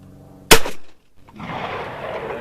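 A single sharp, loud blast from a Rossi Match Pair shotgun firing a 2.5 inch shell of number 6 shot, followed by brief quiet and then close rustling handling noise.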